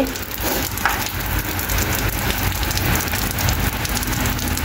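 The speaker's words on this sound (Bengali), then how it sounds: "দেখেন কি পরিমাণে বৃষ্টি হচ্ছে" Heavy rain pours steadily and loudly, a dense unbroken hiss of drops on surfaces with no voices.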